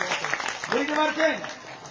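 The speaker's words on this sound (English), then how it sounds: "give a big round of applause for them." Devotees clap at a hari-katha religious gathering in West Bengal, a short burst of moderate applause with a speaker's voice clearly heard over it.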